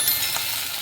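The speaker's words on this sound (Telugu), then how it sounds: "ఆనియన్ వేసుకుంటున్నా" Onions dropped into hot oil already spiced with mustard seeds and cumin give a short, steady, bright sizzle.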